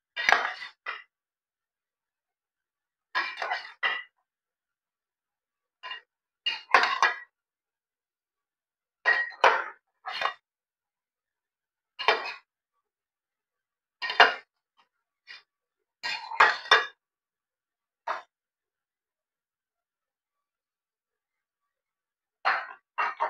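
A metal ladle clinks against a cooking pot while a dish is being cooked at home, in sparse bursts of sharp, close clatter separated by silent pauses.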